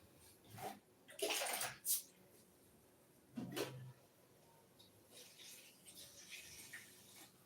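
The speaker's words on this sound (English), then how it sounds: "add water." Water poured into a pot of Nigerian goat meat stew, a couple of short splashing pours close by, followed by quieter trickling and bubbling.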